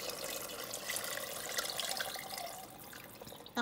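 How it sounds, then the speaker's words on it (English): Beef broth pours steadily into a cooking pot, a continuous soft liquid splash and trickle heard up close with no talking. "Saka natin ilagay yung ating beef broth."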